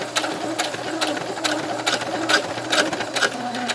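A sewing machine back stitches through bulky apron fabric, running in short rapid bursts with brief pauses between them, close and steady with no talk over it.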